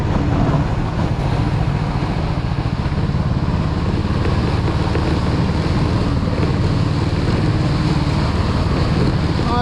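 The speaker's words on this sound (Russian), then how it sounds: "Ураган сила." Strong, hurricane-like wind roars steadily against the microphone outdoors, a dense, unbroken rushing noise with no pauses and no voices.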